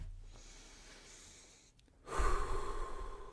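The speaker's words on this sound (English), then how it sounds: "take a deep breath." A slow, deep breath is drawn in softly and then let out in a fuller, louder exhale, heard close up and alone in a quiet room.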